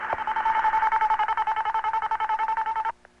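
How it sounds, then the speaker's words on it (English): French telephone network progress tone while a long-distance call connects: a rapid, steady train of short pulsed beeps on one pitch, clear and close, lasting about three seconds before cutting off. "In France, after you've dialed and your call is going through the French network,"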